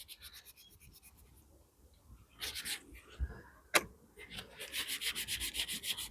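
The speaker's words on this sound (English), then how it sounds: "So if I go with a cream cleaner, it's not coming off." Cream cleaner scrubbed over a stubborn mark, giving rhythmic rubbing strokes that build into a steady back-and-forth scour toward the end, close and fairly quiet, with a sharp knock partway through.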